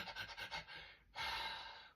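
A human voice imitates a dog panting, with rapid rhythmic huffs followed by one longer, breathy exhale, quiet and close.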